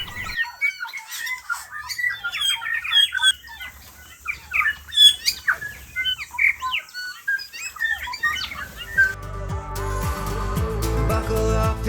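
Rare native birds such as kokako sing in a predator-free New Zealand island sanctuary, with a busy mix of squawks, chirps and calls close by; a burst of music cuts in near the end.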